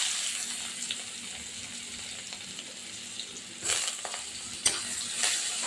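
Chopped onion sizzles in hot oil with cumin and bay leaf as the base for a spicy tengra fish curry, a steady close frying hiss broken near the end by a few louder stirring scrapes.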